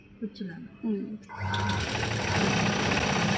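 A sewing machine stitches the back part of a blouse. A brief stretch of talk comes first, then a loud, steady motor whir runs without a break to the end.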